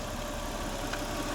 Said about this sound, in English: the engine starts now